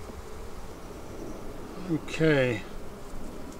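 Angered honey bees buzz around an opened hive during beekeeping work, a steady insect drone with a brief rise as a voice speaks a single word.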